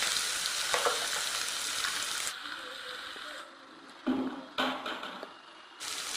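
A paste of onion, green chili and ginger fries in oil for a village-style fish curry. A close, busy sizzle gradually softens and is broken by short bursts of stirring and scraping in the pan.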